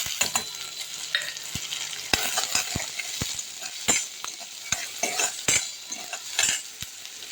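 Onion frying in hot oil with cumin, mustard seeds, green chillies, curry leaves and ginger paste for a black-eyed pea usal, a steady loud sizzle broken by sharp clinks of a spoon stirring against the pan.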